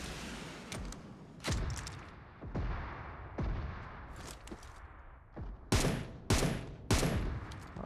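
Gunfire in PUBG Mobile, with a run of sharp, loud shots at irregular intervals, some single cracks and others in quick clusters, the last several spaced close together with no talk over them.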